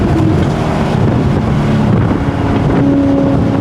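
A Maserati engine drones loudly and steadily during a downshift on a test drive, under a constant rush of wind noise with no talking.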